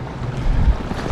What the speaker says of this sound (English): I'm so glad I decided to brave this wind.